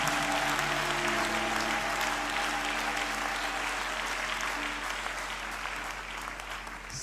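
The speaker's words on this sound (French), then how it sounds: "acclame très bien pour le Seigneur" A church congregation at a mass prayer service applauds in praise of the Lord, a dense, sustained wall of clapping that fills the room and slowly tapers, with a low steady hum and faint tonal sound beneath.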